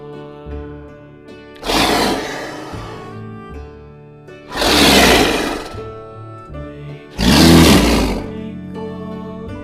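A leopard roars three times, each a loud, rough, drawn-out burst about a second long, separated by pauses, over a quiet steady musical backdrop.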